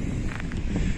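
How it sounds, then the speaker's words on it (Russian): Strong wind buffets a microphone on a seaside promenade at Arkhipo-Osipovka, a steady low roaring rush with brief gusty swells, no voices. "У нас сегодня сильный ветер."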